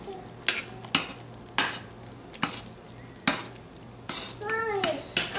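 Thick hot process patchouli soap batter being stirred, with repeated scraping spoon strokes against the pot at a steady rhythm and a soft bubbling sizzle between them, close and clear.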